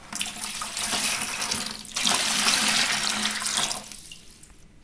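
Distilled water pours steadily into a wide bucket for homemade SLES liquid, a continuous splashing rush with a brief dip near two seconds before tapering off, heard alone without talk.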